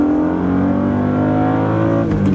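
A BMW E36 M3 engine revs hard under acceleration, a loud, steady throaty drone rising in pitch across the pull, close and continuous with no talk over it.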